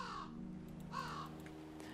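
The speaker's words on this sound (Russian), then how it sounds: "Ворона сидит." A crow in a winter forest survival video game caws twice, two hoarse, moderately distant calls about a second apart over a faint steady ambient hum.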